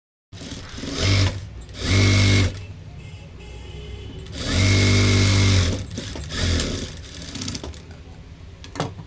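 A sewing machine runs several short stitching bursts on a blouse side fitting, close and loud, with brief pauses and quieter handling between the runs.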